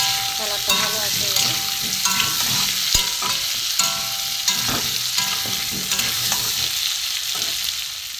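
Potatoes tossed with turmeric fry in oil in a pan for chicken curry, giving a steady loud sizzle throughout with repeated scraping and stirring clinks of a spatula against the pan.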